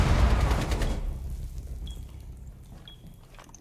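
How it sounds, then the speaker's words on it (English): A grenade goes off in a Rainbow Six video game, a loud, close blast with a rumbling low tail that fades over about a second, followed by quieter room noise and faint clicks. "Someone just threw a grenade in here."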